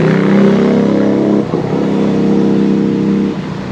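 Lexmoto Vendetta 250 motorcycle under way, its engine a loud, close, steady drone that dips and shifts briefly as the ride goes on.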